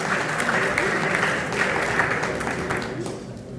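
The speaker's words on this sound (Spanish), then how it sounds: "Un aplauso para la ingeniera Ana María Civile Martínez" Audience at a formal anniversary session of an engineers' association applauds an engineer, a steady wave of clapping that holds for a few seconds and slowly fades, with voices faintly underneath.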